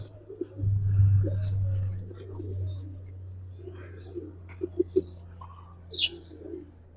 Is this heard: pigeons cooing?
yes